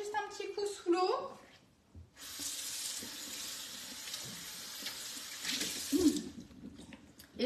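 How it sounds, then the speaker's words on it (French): A silicone baking mat is rinsed under a running kitchen tap during a Yule log baking workshop: a steady rush of water lasts about four seconds, with talk just before and after. "Je vais le repasser juste un petit coup sous l'eau."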